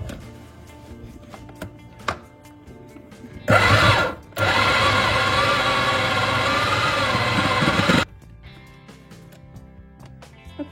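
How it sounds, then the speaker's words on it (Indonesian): Electric blender whirring for about four seconds with a brief stop and restart, loud and steady, as batter with pepper is mixed in a kitchen, with quieter clinks before and after. "Kemudian kita blender dulu ya teman-teman biar dia sedikit halus adonannya"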